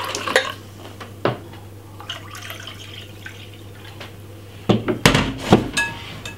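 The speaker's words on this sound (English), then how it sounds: "I'm gonna pour it inside of this like this" Ginger lemon water is poured into a container with a few sharp clinks of glass or utensils, brief liquid splashes and trickles, close and fairly quiet between knocks.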